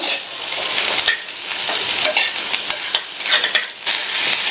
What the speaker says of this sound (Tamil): இந்த பீன்ஸை எண்ணெயிலேயே ஹை ஃப்ளேமில் வச்சு ஒரு 2 நிமிஷத்துக்கு வதக்கிக்கலாம்